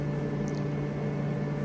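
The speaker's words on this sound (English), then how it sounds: "Now what you hear is the fans and the water pump" Cooling fans and a water pump run inside a broken laser machine, giving a steady, continuous mechanical hum with a strong low tonal drone and broadband whir, even and unchanging throughout, with no talk.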